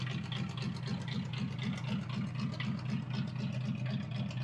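A 1935 Ford Coupe that has sat for a couple of weeks idles with the choke on, its engine running steadily with an even, close, rumbling rhythm and no voices over it.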